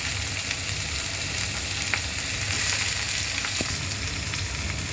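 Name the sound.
potato pieces frying in pan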